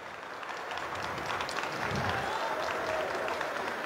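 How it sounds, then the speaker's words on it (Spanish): Sustained crowd applause for the champion team of a women's volleyball event at a club in Arequipa, an even, moderately distant wash of clapping throughout. "Fuerte el aplauso para ellas"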